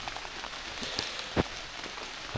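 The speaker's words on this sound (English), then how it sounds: "It's pouring down rain." Heavy rain pours steadily on surfaces in the woods during a deer hunt, a soft continuous hiss with a few louder drips and taps standing out, and no voices.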